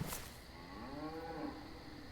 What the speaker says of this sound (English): I hear cows